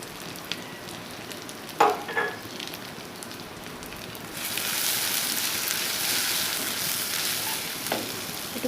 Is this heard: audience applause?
no